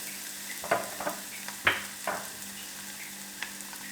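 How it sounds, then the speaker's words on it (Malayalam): Green chillies fry in a pan with a soft continuous sizzle, broken by a few sharper crackles and stirring scrapes, quiet and close. "പച്ചമുളകൊക്കെ ഒന്ന് മുരിഞ്ഞ് വരട്ടെ"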